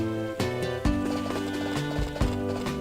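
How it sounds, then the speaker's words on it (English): A horse in the farming game Harvest Moon: A Wonderful Life gives a few clip-clop hoof sounds over a steady, tonal musical background, with a loud thump near the start and another midway. "What are you doing, horse?"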